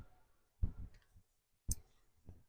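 Scissors snipping through a length of yarn pulled from a ball, a few sharp, quiet clicks spaced apart in a hushed room, with one crisper cut standing out.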